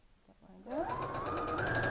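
A sewing machine starts up while joining star quilt pieces, its motor whirring up in pitch over a brief moment and then running steadily nearby.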